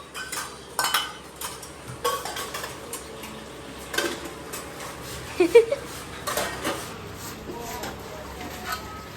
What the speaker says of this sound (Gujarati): ઉટકેલા વાસણ ખાટલીમાંથી બહાર કાઢ નાખ્યા